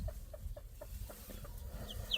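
Soft, rhythmic clucking from chickens repeats at a steady pace, fairly quiet, with a couple of brief higher chirps near the end.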